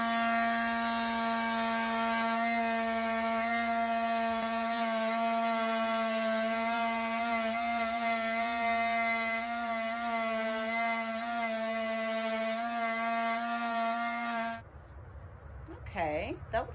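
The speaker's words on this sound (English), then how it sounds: "I sanded it." A power tool sands a plastic tape dispenser with a steady, loud, high whine that holds for about fourteen seconds, then cuts off abruptly.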